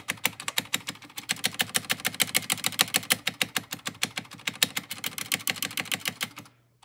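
Rapid, steady typing on a Red Dragon keyboard whose space bar has been tissue-modded, sharp close clicks and clacks running continuously for several seconds before stopping abruptly.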